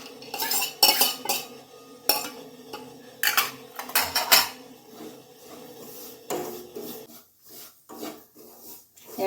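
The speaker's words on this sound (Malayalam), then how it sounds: "ഇനി നമ്മൾ വറുത്ത് വെച്ച അണ്ടിപ്പരിപ്പ് ഇട്ട് കൊടുത്ത് ഇളക്കാം" A metal spoon scraping and clinking against a pan while roasted cashews are stirred into beetroot upma made with semolina, in bursts of rough scraping separated by short pauses, close and clear with no talk.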